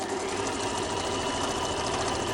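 A Bernina sewing machine stitching: a steady, fast mechanical whir and chatter, close and continuous throughout, with no voices.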